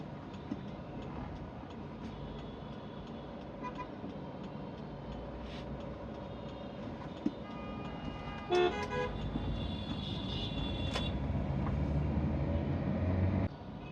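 Heavy city traffic jam on a drive through Dhaka, Bangladesh, from Hatirjheel to Nikunja: a steady low road rumble and engine hum fill the scene, with a few short car horn toots near the middle and no talking.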